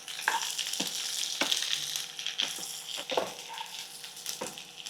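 Beetroot frying slowly in a pan over a low flame, a steady close sizzle with sharp scraping stirs every second or so.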